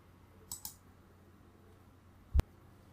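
A computer mouse gives a few faint, close clicks on a quiet desk, a soft pair early on followed by one sharper, louder click.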